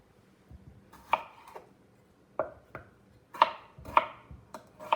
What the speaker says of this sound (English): Just doing a small chop.